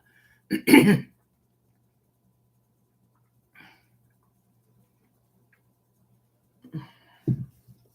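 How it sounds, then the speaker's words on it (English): A single sharp cough near the start, then near silence, with a faint click midway and a couple of short throat sounds toward the end. "The cough"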